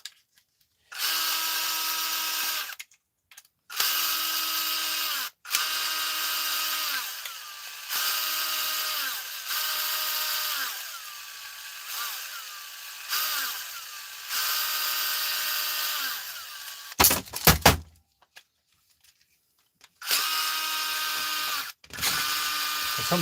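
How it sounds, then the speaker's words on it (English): A cordless electric screwdriver runs in a series of short, loud whirring bursts with brief silences between them and a clattering handling noise near the end. "There's some torque in this screwdriver."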